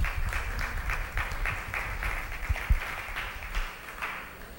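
A congregation applauds in praise during a Spanish-language Torah portion teaching, with steady scattered clapping that rises and falls over several seconds, fairly distant and uneven, with a few louder claps near the end.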